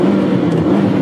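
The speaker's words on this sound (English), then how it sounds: "Why don't we do a tunnel blast in this car?" Nissan GT-R engine held in neutral inside a tunnel, a steady loud low drone with dense rumble filling the space, sustained throughout the short burst without voices.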